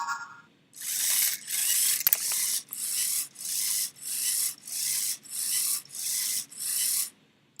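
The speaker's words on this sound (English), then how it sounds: "every time it passes through the loop, it goes forwards and backwards" A Lego Mindstorms robot motor drives forwards and backwards in a repeating loop with braking switched on, giving about eight evenly spaced whirring, rasping bursts separated by short pauses, close and with no talk.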